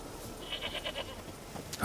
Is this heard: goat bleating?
yes